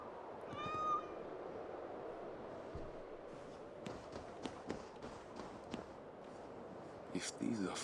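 A cat in the video game Assassin's Creed Valhalla gives a single short meow near the start, then footsteps and thuds follow over ambient game sound.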